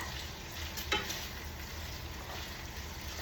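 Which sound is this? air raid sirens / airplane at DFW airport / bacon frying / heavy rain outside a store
bacon frying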